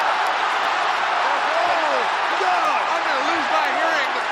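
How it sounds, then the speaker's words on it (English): Loud, dense roar of a cheering arena crowd at a Pride FC fight, continuous and sustained with whistles and shouts rising through it, no clear talk on top. "The crowd is so loud."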